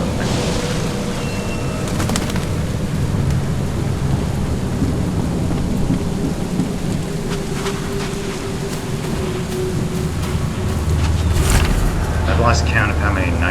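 Steady rain pours throughout a thunderstorm in The Sinking City, with low rumbling thunder rolling beneath a dense wash of falling water and a brief tonal sound near the start.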